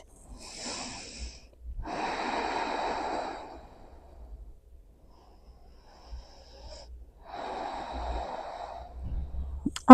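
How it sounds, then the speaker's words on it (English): Slow, deep breaths during a yoga session, audible inhales and exhales in long soft bursts separated by quiet pauses, close and alone without talk. "Give yourself 3 breaths."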